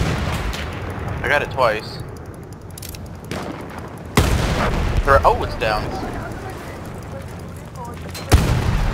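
Heavy cannon blasts boom a few times at irregular intervals in Battlefield 1, loud and punchy, while someone talks between shots.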